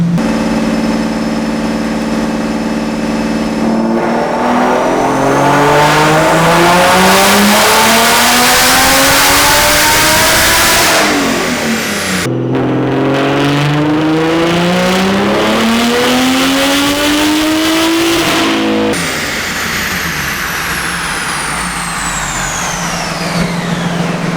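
A single-turbo BMW 135i running on a dyno at low boost: loud engine revving alone, climbing hard through the gears with rising pitch, a brief drop at each shift, then winding down at the end.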